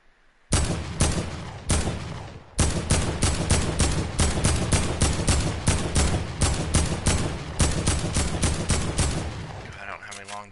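Rapid volleys of video game gunfire from long-distance guns, loud and close, with dense bursts of shots in a steady rattling rhythm broken by a few short pauses, alone without talk.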